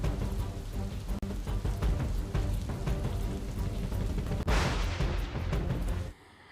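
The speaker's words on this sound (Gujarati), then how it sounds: "ડીસામાં પણ ધોધમાર વરસાદ પડ્યો" Heavy rain pours down in Deesa, Banaskantha, a dense, steady roar of water hitting surfaces, close and unbroken, that swells briefly before dropping off at the end.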